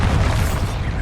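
A Bombarda spell explosion in Hogwarts Legacy during a troll attack, a loud, dense, sustained rumbling blast that fills the whole moment with low boom and crackling debris.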